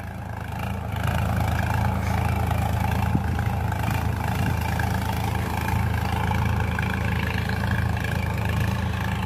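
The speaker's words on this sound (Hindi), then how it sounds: "हैरो इस टाइम ट्रैक्टर चलता हुआ है 1300 चक्कर पे चल रहा" Sonalika DI-5 tractor pulling a harrow through a field at about 1300 rpm, a steady, loud, low diesel drone that holds constant throughout without speech.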